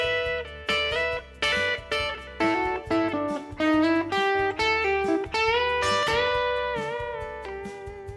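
An electric guitar plays four bars of a solo, a quick run of clear picked single notes and double stops with bends, close and prominent over a soft low backing, with no talking.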